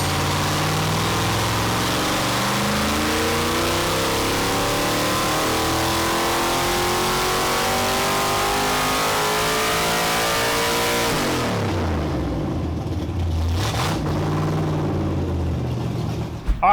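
A 363ci V8 on a dyno roars loud and close through a sustained full-RPM pull, its pitch climbing steadily, then cuts off abruptly and winds down.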